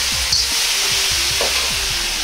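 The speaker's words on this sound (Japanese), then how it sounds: "紹興酒または酒大さじ1を鍋肌から香りが出るようにして入れます。" Shaoxing wine hits a hot pan and sizzles loudly and steadily, with quick scraping stir strokes repeating under the hiss, close up and without speech.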